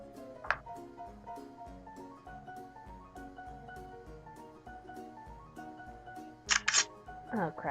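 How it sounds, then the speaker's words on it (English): A phone camera shutter clicks twice in quick succession near the end, sharp and close, over music and game sounds from Yandere Simulator playing underneath. "Sorry if you hear a bit of a shutter noise"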